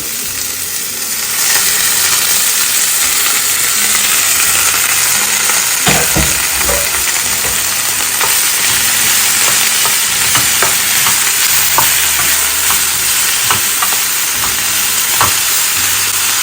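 Onions and leeks frying in a pan for tuna sambal, a loud, steady sizzle close up with occasional stirring knocks and scrapes, no talk.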